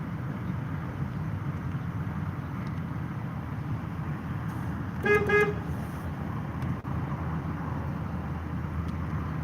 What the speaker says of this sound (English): See, the traffic noise is so hard.